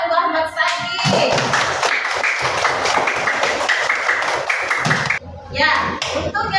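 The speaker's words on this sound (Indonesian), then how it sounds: "Tepuk tangan untuk Ahmad Saki." A classroom audience of students claps for a top assessment result, a burst of close, brisk clapping lasting several seconds between brief spoken words, including a voice.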